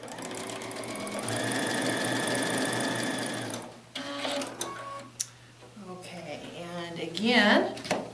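Quilt block pieces are stitched on a sewing machine with a steady, loud mechanical whir for a few seconds. It stops, then fabric handling, clicks and light rustling follow.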